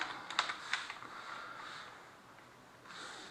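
A few quiet taps on a computer keyboard as a name is entered, soft and close, in a brief scattered burst over a faint background hiss.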